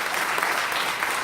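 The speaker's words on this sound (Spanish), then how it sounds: "Dale palmas a Jesús." A church congregation applauds for Jesus during a worship service, a steady, dense wash of many hands clapping at once that holds even and full for its short length, with no voices rising above it.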